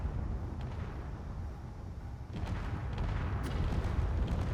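A barrage of rockets detonates against cruisers in Space Engineers, a rolling series of dull explosive booms and rumbles that swells in the second half, with no voices.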